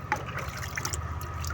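Water splashes and trickles onto a smooth-finish surface treated with Sahara, where it beads up, giving light dripping and splattering close by, with no talk.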